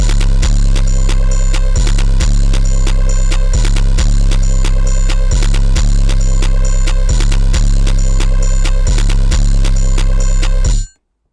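A loud, steady electronic beat with thumping low kicks and a bright repeating pattern, playing continuously before cutting off abruptly at the end.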